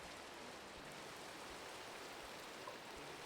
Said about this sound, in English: Surely being out in the rain's lovely.